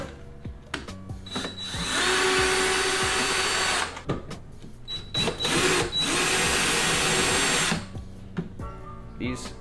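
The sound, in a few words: power tool with socket removing 8mm nuts from VW Golf R tail light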